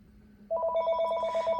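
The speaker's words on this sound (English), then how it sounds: "your home phones are ringing" Home telephones connected through a Cell2Jack adapter ring with a steady electronic warble, a rapid pulsing tone that starts abruptly partway in and continues loud and close to the end.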